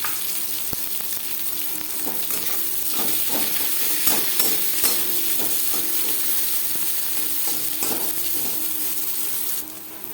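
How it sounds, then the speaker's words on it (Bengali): Steady, loud sizzling of onions frying in hot oil, with intermittent scraping and stirring clicks throughout; no voices. "পেঁয়াজ ভাজা হয়ে এসছে"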